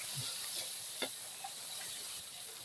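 Chopped tomatoes sautéing in a pan for ginisang ampalaya with egg, a soft sizzle with a few light stirring clicks and scrapes close by, no talking.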